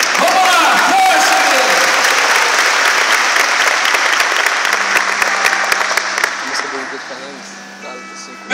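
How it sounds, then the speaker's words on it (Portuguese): A church congregation applauds loudly during a youth gathering, with dense clapping and some voices and cheers mixed in. The applause fades toward the end as a voice and faint music come through. "Vamos aplaudir a palavra do Senhor aqui."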